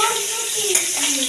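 Potatoes coated with turmeric fry and get stirred in a pan, giving a steady sizzle throughout with a light scraping of the spoon.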